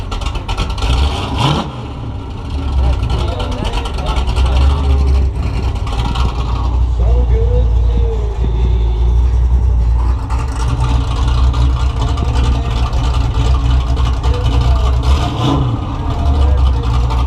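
A loud engine rumbles steadily with a couple of sharp revs, low and close, with faint voices underneath.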